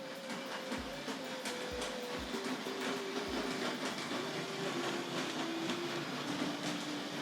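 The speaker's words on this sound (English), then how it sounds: "So let's get the locomotive along there and see if we can have a quick look at that in action." Tri-ang R.152 model diesel shunter locomotive running along model railway track, a steady whirring motor hum with light rail clicks and a few soft low knocks over joints, continuous and close.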